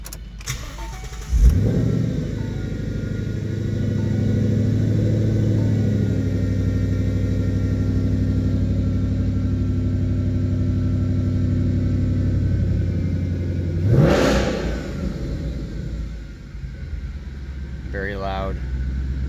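A 2014 Ford Mustang engine cranks and catches, then settles into a loud, steady rumbling idle, with a sharp rev burst about two-thirds through before dropping back to idle.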